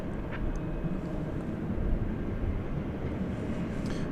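A distant American Airlines Airbus A321neo jet rumbles at night at Dallas-Fort Worth Airport, a steady low engine roar holding evenly throughout with no talking.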